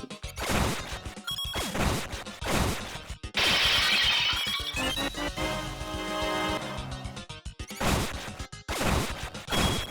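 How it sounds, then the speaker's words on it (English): Clay pots smashing in the Legend of Zelda Oracle game, a loud crashing, shattering burst of breaking game sound effects with clinking debris, set among repeated game effects and music. "Really, really loud pot smashing noises."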